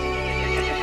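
A horse in the video game Resident Evil Village lets out a loud, sustained neigh, close and tonal, over an ambient game background.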